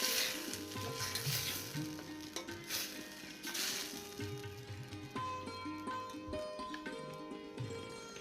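Moringa drumsticks fry in a pan, a steady close sizzle and crackle with occasional stirring clatter, no voices.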